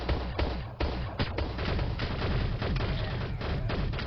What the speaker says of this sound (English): They're shooting from the corner.